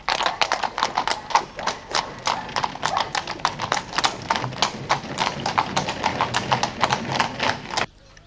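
Horse hooves clip-clop in a steady, close rhythm throughout, loud and crisp, with a brief moment of quiet at the very end.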